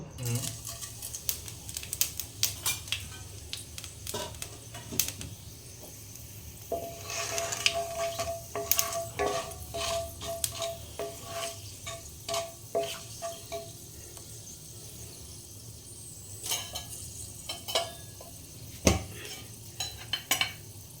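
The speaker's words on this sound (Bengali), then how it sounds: "এখানে আমি পরিমাণ মতো তেল দিচ্ছি আলুটা পুর করার জন্য ফোড়ন দিয়ে দিচ্ছি পাঁচ ফোড়ন" Panch phoron spices sizzle and crackle in hot oil for an aloo chop filling, with spoon scrapes and clinks against the pan, while someone talks over the cooking.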